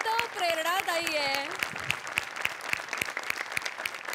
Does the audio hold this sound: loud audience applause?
yes